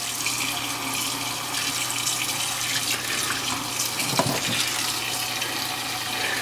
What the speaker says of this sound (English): I'm gonna go ahead and rinse these off